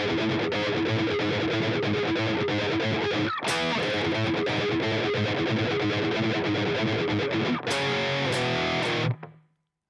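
Heavily distorted electric guitar chugging on the fourth and fifth before crashing into power chords, a verse riff, loud and dense with no talk, then cut off abruptly.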